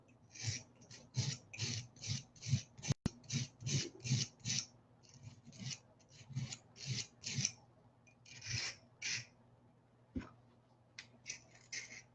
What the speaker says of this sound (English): all that ear-piercing scraping noise means that this knife is sharp as hell